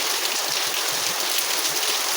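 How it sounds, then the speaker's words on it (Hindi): Heavy monsoon-style rain pours down steadily in a dense, even hiss with no pauses, close and fairly loud, with no voices over it. "देखिए कितनी तेज़ वाली बारिश आ रही थी"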